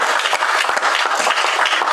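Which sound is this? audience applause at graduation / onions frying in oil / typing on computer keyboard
audience applause at graduation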